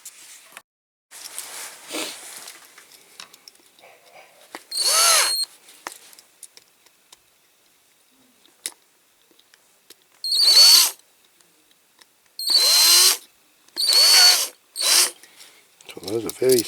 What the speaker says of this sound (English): then we'll get down to drilling the rivets out